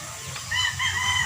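A hen clucking in a small backyard poultry coop, a short run of close, moderately loud clucks and a higher drawn-out call, with no voices over it.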